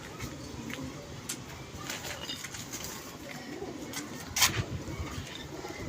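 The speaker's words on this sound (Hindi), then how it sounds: "और बहुत अच्छा कबूतर है ये" A pigeon coos softly at a pigeon club loft, low, faint murmuring calls under a hum of background noise, with a brief sharper chirp or knock near the end.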